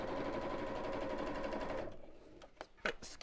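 A sewing machine stitches through a folded ladies' evening bag in a quick, even run of needle strokes for almost two seconds, then stops, leaving a few faint handling clicks.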